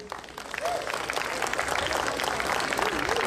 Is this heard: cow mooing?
no